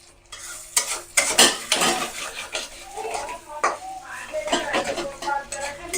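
Egg roll filling frying in a pan at home, with busy stirring and metal utensil clatter over a sizzle, spoken words mixed in now and then.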